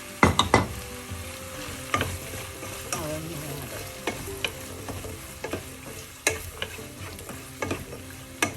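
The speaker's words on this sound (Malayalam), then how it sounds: "അതിലേക്ക് നമുക്ക് ചെറിയ ഉള്ളി ഒക്കെ ചേർക്കാം." Small onions fry in a pan of hot oil for a prawn masala, a steady close sizzle broken by sharp clicks and scrapes of a spoon stirring against the pan.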